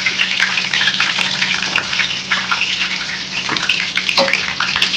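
Mustard seeds, curry leaves and chili frying in hot oil, a close, loud, continuous sizzle and crackle with small pops throughout.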